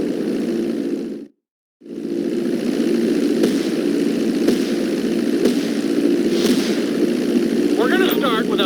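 Propeller plane engine in GTA 5 flight school, throttled up for takeoff: a loud, steady droning roar that cuts out briefly near the start, then returns and holds, with faint chirps near the end.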